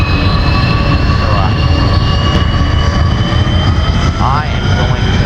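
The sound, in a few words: airplane engine in BeamNG video game airshow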